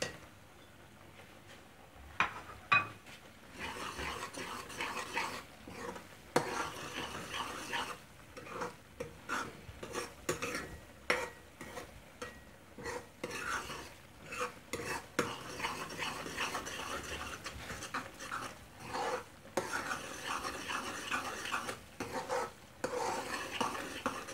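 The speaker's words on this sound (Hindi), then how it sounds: "इसमें अब डालेंगे मीठी सौंफ, इसको भूनेंगे अच्छी तरह।" Sweet fennel seeds dry-roasting in a pan for dates halwa, with a spatula stirring and scraping in quick, irregular strokes close by and a faint sizzle underneath, no voices.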